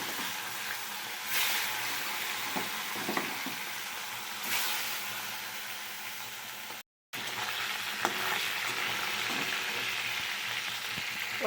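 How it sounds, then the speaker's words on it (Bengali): Salt-and-turmeric-rubbed fish frying in hot oil after being dropped in piece by piece: a steady, close, even sizzle with faint kitchen clinks, continuous apart from one brief dropout. "মাছগুলোকে এক এক করে ছেড়ে দিচ্ছি।"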